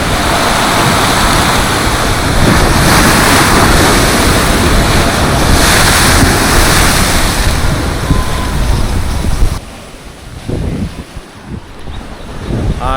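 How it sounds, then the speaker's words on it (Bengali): Roaring sea waves at full high tide off Mousuni Island, a loud continuous wash of surf with wind buffeting the microphone, dipping briefly near the end before swelling again. "আমার যে পাশ থেকে সাউন্ডটা আসে সমুদ্রের গর্জনে, সেটা শুনে বুঝতেই পারছো এখন পুরো ভরা জোয়ার চলছে।"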